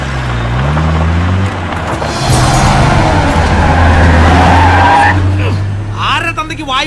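Car pulling away with tyres squealing and skidding, a loud engine surge building then fading, with a voice speaking over it.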